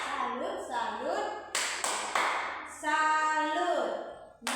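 Fourth-grade schoolchildren perform a tepuk salut clapping routine, chanting in a sing-song voice with a few sharp, separate hand claps punctuating the chant.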